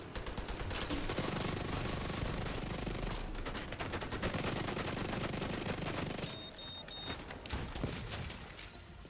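Sustained rapid automatic gunfire at a purple tank enemy in The Division 2, dense and continuous for several seconds, then breaking into shorter bursts near the end, with no talk.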